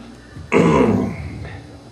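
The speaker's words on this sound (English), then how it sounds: "Gotta clear my throat for this one." A single gruff throat clearing bursts out loudly and close, rasping for about a second before trailing off into quiet.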